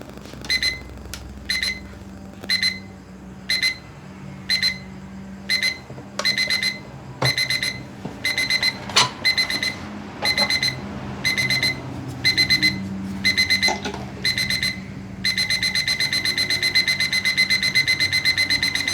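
A digital alarm clock that was converted to run on a rechargeable battery beeps in short repeated clusters, close and clear. The clusters start spaced apart, then speed up and merge into continuous rapid beeping toward the end.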